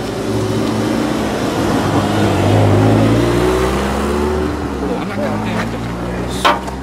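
Car engine revving after a battery was connected, loud and close, rising and falling in pitch over several seconds, with voices talking alongside and a sharp knock near the end.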